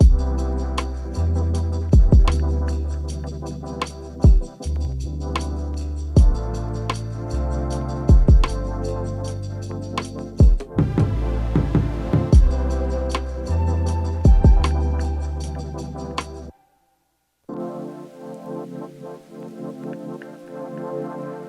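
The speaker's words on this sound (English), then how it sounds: "I just used a vinyl, crackle, and a rain sound" Vinyl crackle and rain foley sit beneath a synth-driven lofi hip-hop beat and continue as a soft, steady texture after the music cuts out near the end.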